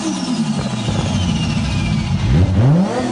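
A Nissan Skyline R34 GTR's engine runs and revs, ending with a fluttering turbo sound and rising, chirping tones, loud and close, with no speech.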